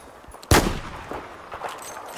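A single loud gunshot in Battlefield 4 cracks sharply near the start, followed by fainter scattered shots and game ambience.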